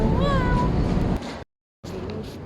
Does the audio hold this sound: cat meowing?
yes